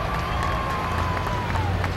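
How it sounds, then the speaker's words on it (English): Crowd applause in the grandstands at a pro stock tractor pulling event in Louisville, Kentucky, a dense, steady wash of clapping with an announcer's voice running over it. "Let's give him a nice round of applause."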